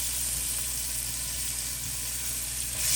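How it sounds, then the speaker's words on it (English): Onions sautéing in oil in a pan over raised heat, a steady soft hiss of sizzling, close and continuous, with faint low rumble underneath and no talking. "let these onions sort of saute a little bit, getting a little bit more oil on there"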